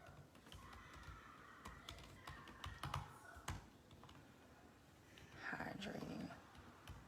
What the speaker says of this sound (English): I'm gonna type it in as I'm speaking.